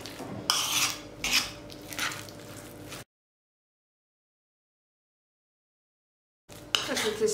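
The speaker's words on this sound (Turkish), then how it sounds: "Şöyle bir karıştırayım" A spoon stirs börek filling mixed with a couple of spoonfuls of oil in a bowl, giving a close, scraping clatter in two bursts separated by a pause of silence.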